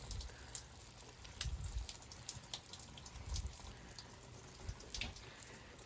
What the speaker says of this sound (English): Okay, so I'm just gonna water them, make sure they get enough water.